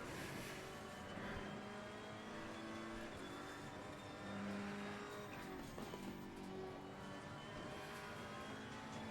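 A GT race car laps Laguna Seca in the Assetto Corsa Competizione racing game, engine revving up and down through gear changes with brief tire squeals, loud and continuous with no talk.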